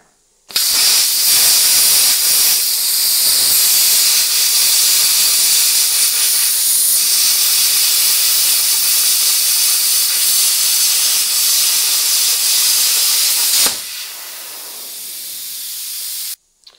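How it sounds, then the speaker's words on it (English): A plasma cutter torch slices through steel with a loud, steady, harsh hiss of rushing air. After about 13 seconds the cut stops and a quieter stream of air keeps flowing through the torch. "when you're finished cutting with the torch, you'll hear the air flowing through it still"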